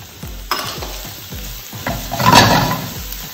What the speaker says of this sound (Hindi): हम इस पे चॉप अनियन डाल देंगे